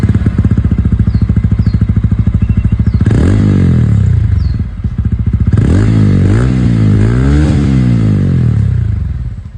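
2024 TVS Ronin 225 motorcycle exhaust with metallic muffler cover, a loud close thumping idle followed by two bursts of throttle blips rising and falling, with some clatter.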